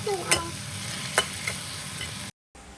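Pork stir-fried with spices in a pan, soft sizzling under sharp clinks of a utensil striking the pan two or three times, then a brief gap before quiet sizzle resumes.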